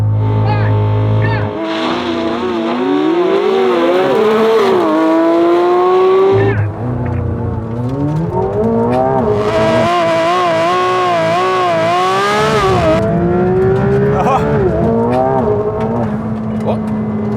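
McLaren 750S and Porsche 911 GT3 RS accelerating hard in a drag race, engines roaring loud and close with rising revs, gear-change drops, and sustained high-pitched power throughout.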